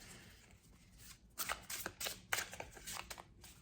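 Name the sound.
tarot cards being shuffled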